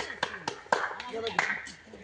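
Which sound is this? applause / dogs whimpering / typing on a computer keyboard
applause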